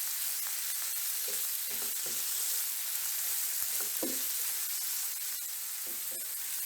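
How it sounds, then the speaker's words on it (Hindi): Cubed chicken frying in oil in a pan, a continuous close sizzle with occasional stirring scrapes and clinks throughout. "चिकन को हम बहुत अच्छे से फ्राई कर लेंगे ताकि चिकन का कलर बिल्कुल चेंज हो जाए"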